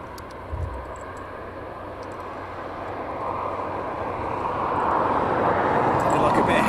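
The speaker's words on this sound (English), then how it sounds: "The next one is taxiing out." An aircraft taxis out at East Midlands Airport at night, a broad engine roar that swells steadily from moderate to louder as it draws nearer, with faint background sounds and talk in the clip.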